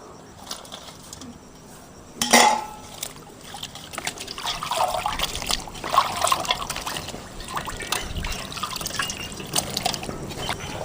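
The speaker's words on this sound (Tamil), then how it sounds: "மிளகாயை தண்ணியை போட்டு கழுவி எடுத்துக்கலாம்." Water trickles and splashes as green chillies are rinsed by hand, with intermittent sloshing and a louder splash early on, fairly close.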